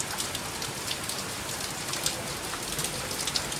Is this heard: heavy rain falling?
yes